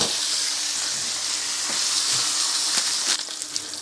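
Steak searing in a hot pan, a steady loud sizzle and crackle of frying fat with a few sharper pops toward the end, heard alone without talking.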